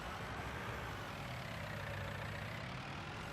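A tractor engine in Farming Simulator 19 runs in a steady, continuous low rumble with a broad noisy hum, unchanging and fairly quiet throughout, with no talking.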